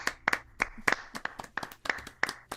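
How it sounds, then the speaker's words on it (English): A handful of people clap close by for a small live variety show performance, the individual hand claps distinct and uneven rather than a full crowd roar. "Keep those applause going till they put their headphones on"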